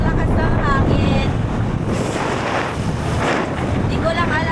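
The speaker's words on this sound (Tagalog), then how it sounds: "Sobrang lakas ng hangin." Heavy wind rushes and buffets the microphone continuously in Coron, Palawan, a loud steady roar with a faint engine-like drone underneath.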